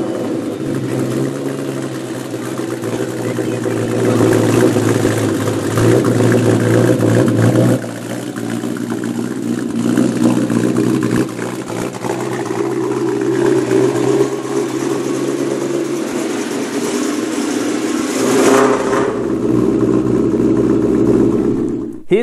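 2003 Ford Mustang Cobra fitted with Comp Stage 3 cams, running loud and close with a choppy idle, broken by revs and brief drops in the engine note over about twenty seconds.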